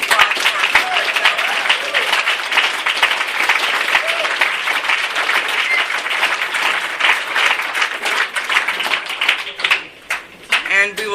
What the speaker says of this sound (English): Can we get one more big round of applause for our